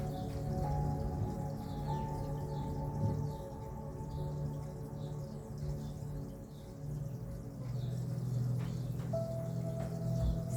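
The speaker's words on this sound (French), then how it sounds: "Je suis désolée, il pleut. J'ai ma fenêtre." Light rain falling outside an open window, a soft steady patter with occasional drips under a sustained tonal hum, faint birdsong now and then, and no one speaking.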